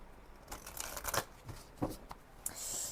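Oracle cards are shuffled by hand for a reading, giving a series of quick papery riffles and slaps in an irregular rhythm, close and fairly quiet, with no talking.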